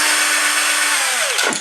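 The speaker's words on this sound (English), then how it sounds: "I'll switch and I'll go to my little drill" A small cordless drill set to low torque drives screws into a BB-8 droid skeleton frame, a steady close whine running throughout and winding down with a falling pitch at the end.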